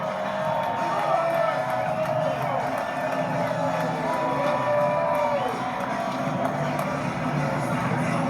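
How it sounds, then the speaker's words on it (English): A large crowd at the Daytona 500 roars and cheers steadily as the cars come past, a broad, continuous wall of massed voices with scattered shouts and whoops rising out of it. "And a big roar from the crowd as they come past."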